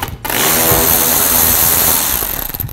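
A power tool whirs steadily and loudly for nearly three seconds while working out T20 screws on a 2007-16 GMC Acadia during radiator replacement, starting after a brief pause.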